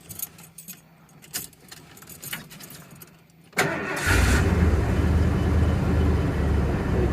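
Keys jingle and rattle near the ignition of a Ford F-250 pickup carrying a truck camper, then the engine cranks and catches, settling into a loud, steady idle that fills the cab.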